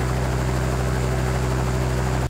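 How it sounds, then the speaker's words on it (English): A steady, droning engine hum with a low rhythmic throb, continuous and fairly loud, cutting off abruptly at the end. "add maybe helicopter sound"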